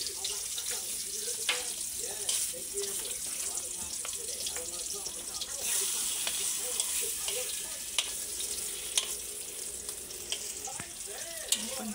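Slices of Spam browning in a hot pan for homemade Spam musubi, a continuous crackling sizzle with scattered pops and scraping stirs, while people talk quietly nearby.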